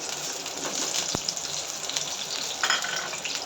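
Chopped onions fry in hot oil for Indian matar paneer gravy, making a soft, continuous hiss and sizzle with one brief knock partway through.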